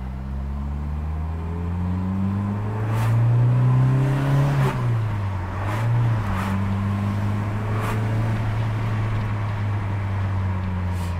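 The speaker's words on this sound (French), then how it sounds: "le bruit du Douvrin qui prend les tours, c'est assez sympa" A 1983 Peugeot 505 GTI with its Douvrin engine revs up through the gears while accelerating, its pitch climbing and dropping at each shift, loud and close with no talk.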